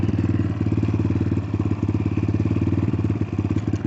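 An Xmotos 250cc motorcycle engine runs steadily close by with a rapid, even chugging pulse and slight variations in revs, loud and continuous with no talking.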